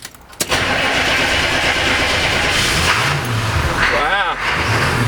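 A 1997 Chevrolet P30 diesel step van gives a brief crank, then catches and roars into a loud, steady, close diesel idle that holds to the end.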